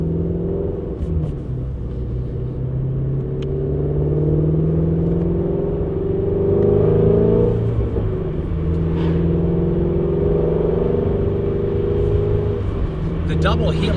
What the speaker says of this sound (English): it's time to really listen to this exhaust now.